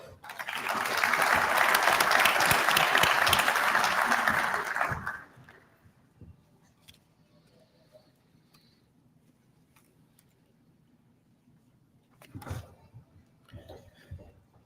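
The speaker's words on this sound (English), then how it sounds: "Let's give them another round of applause, please" Audience applause fills a police awards ceremony honoring promotions, loud and sustained for about five seconds before fading into a quiet hall with faint rustling and a brief stir later.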